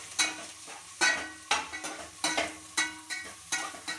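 Mushrooms fry with onions in a pan for mushroom biryani, under a soft sizzle, while a spatula stirs in regular, close scraping strokes about twice a second. No one speaks.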